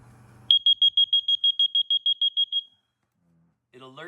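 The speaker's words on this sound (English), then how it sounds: "So, this is a water alarm right here." A rapid series of about a dozen loud, high-pitched electronic beeps from a water leak alarm, then silence before a brief voice at the end.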